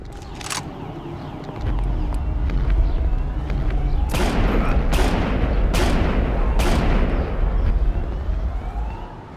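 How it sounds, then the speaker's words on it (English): Repeated gunfire and explosive bursts from the Family Guy: Back to the Multiverse video game, loud broadband blasts at roughly one-second intervals over a heavy low rumble, with a siren-like tone early on. "We gotta shoot the gas tank!"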